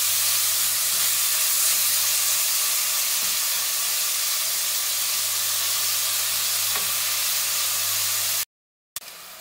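Ground beef cooking in a pan for lasagna, a continuous even hiss and sizzle with a low steady hum underneath, broken by a brief cut near the end.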